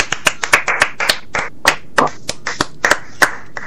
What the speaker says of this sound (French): Applaudissements s'il vous plaît pour la Vivienne.